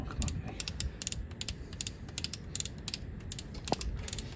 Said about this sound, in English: start ratcheting